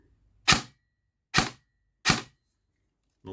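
Airsoft replica shooting three single semi-automatic shots, evenly spaced sharp cracks close by, with the start of a fourth at the very end and quiet between.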